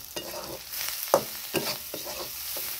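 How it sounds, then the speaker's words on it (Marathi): Stuffed brinjal with chopped coriander sautéed in a pan, with a steady close sizzle broken by several scraping stirs of a spatula, no voices. "थोडंसं परतून घ्यायचं मग"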